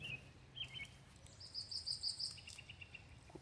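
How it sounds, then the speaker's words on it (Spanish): Small birds chirp and trill in a park near running water, with short high calls repeating in a quick rhythm partway through over a steady outdoor hiss, fairly distant and soft. "Como pueden escuchar los pajaritos cantando."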